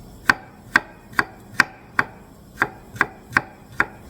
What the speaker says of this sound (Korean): 마늘의 모양을 따라 칼의 앞날을 이용해서 얇게 썰어줍니다.